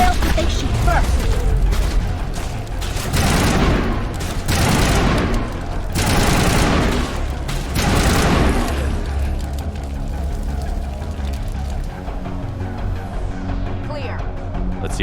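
Rapid bursts of gunfire crack through a firefight in the Mass Effect video game, several loud clustered volleys in the first half giving way to scattered shots and mechanical clatter, with voices talking over the action.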